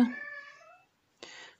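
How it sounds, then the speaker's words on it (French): A cat meows clearly with a drawn-out, falling call, then after a short pause lets out a second, briefer meow. "Donc vous allez l'entendre miauler un peu."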